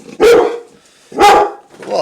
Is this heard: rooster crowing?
no